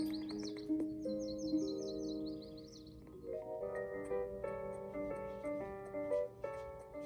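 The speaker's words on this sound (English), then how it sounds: "Birds sang sweet songs." Birds sing in a forest, with soft sustained tones and a quick run of rapid chirps near the start, then layered melodic phrases, faint and gentle throughout with no talk.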